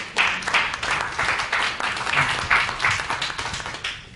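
Audience applause breaking out at a business mixer as guest panellists are welcomed, a steady, dense patter of many hands clapping throughout, fairly close and even, with no talk over it.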